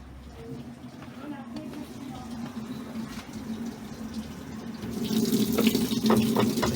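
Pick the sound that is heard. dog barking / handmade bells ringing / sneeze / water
water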